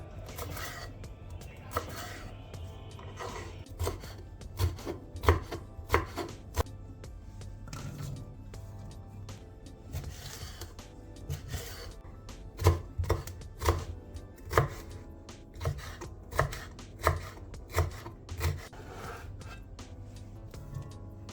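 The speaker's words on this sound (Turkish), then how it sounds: "kapya ve yeşil biberi küp küp doğruyoruz" A knife chops red and green peppers into cubes on a board with sharp, uneven taps. The taps come in bursts, some quick runs and some slower strokes, close and clear with no talking.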